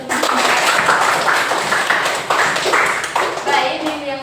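Classmates in a school classroom clapping together in a lively burst, hand claps mixed with children's voices and chatter throughout.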